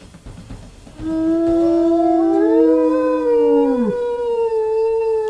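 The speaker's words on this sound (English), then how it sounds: "and then we'll give a nice little howl" A wolf in the WolfQuest video game gives a long, loud, sustained howl that rises and then bends downward before breaking off, heard alone and close.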